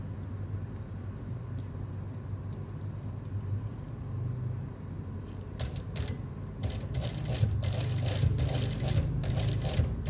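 A sewing machine stitches a gathered ruffle on stretchy fabric, its motor humming under a steady low drone, then picking up into faster, louder rhythmic runs in the second half.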